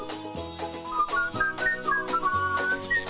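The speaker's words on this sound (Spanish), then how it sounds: "Me sale muy bien, yo silbo muy bien." A person whistles a lively tune alone, the melody rising and wavering in clear, fairly close tones for about three seconds.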